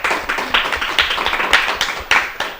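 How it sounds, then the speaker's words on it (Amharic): A studio audience claps for a student who answered correctly on an Ethiopian children's TV quiz show, sounding like a dense, uneven patter of hand claps with several louder surges. No one speaks. "እሺ አጨብጭቡለት"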